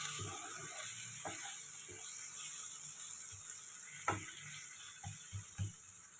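A spoon mixes spices into mushroom masala in a pan over a low flame, with faint sizzling under scattered light scrapes and taps that grow a little more frequent toward the end.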